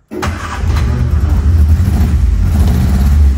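An old car's engine cranks and catches right away, then settles into a steady, loud, close idle rumble that keeps going to the end. The car has just had its original generator replaced with a Dynamator alternator.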